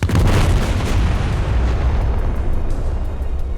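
Iowa battleship main guns firing in War Thunder, a loud booming blast that rolls into a sustained thunderous rumble, heard alone.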